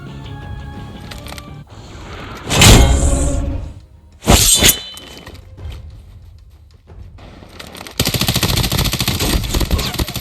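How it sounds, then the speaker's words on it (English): Gunfire in the COD Mobile battle royale game, with a couple of loud sharp bursts and shattering impacts between quieter stretches of mechanical game ambience and a dense noisy passage near the end. "You heard that shot, right?"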